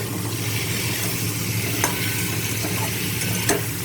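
Drumstick and potato curry cooking in a frying pan, with a steady dense sizzle and a couple of faint stirring clinks over it.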